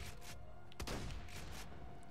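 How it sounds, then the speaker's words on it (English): A Torque shotgun in Borderlands 2 fires a single slow exploding round: a sharp loud blast with a rumbling low tail, standing alone against steady game background noise. "It's a shotgun that shoots exploding projectiles"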